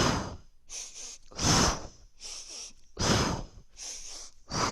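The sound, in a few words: sniffing and blowing breaths during Pilates exercise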